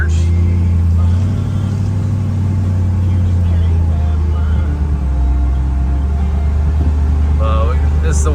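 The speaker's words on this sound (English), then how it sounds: "For a cruise here in our 63 Impala." A 1963 Chevrolet Impala cruising, its engine a deep, steady low rumble close by with continuous road and wind noise, a voice talking over it near the start.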